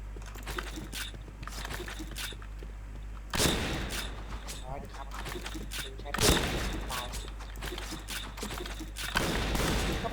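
Gunfire in the Point Blank shooter game, heard as dense rapid bursts of shots and booming blasts that swell in loud waves across the clip, with a player's voice talking over the action.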